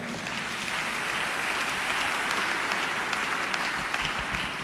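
A church congregation applauding together, a steady dense wash of clapping from many hands that holds evenly throughout without voices.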